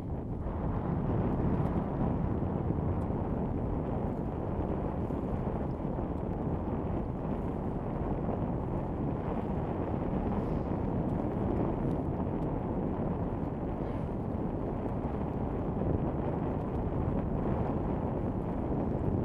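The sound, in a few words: wind at sea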